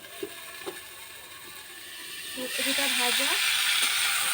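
Potatoes and cauliflower fry in a pan, a steady sizzling hiss that swells loud and stays strong partway through, with a few soft clinks and a faint tonal sound earlier on.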